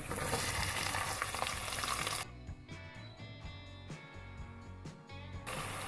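Loud, steady sizzle of onions frying in hot oil fills the first two seconds, then drops to a quieter crackle with scattered stirring clinks before swelling again.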